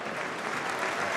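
A stadium crowd at a women's Nations League football match between Belgium and England applauds as an injured player is stretchered off, giving steady, even clapping from many spectators at a distance.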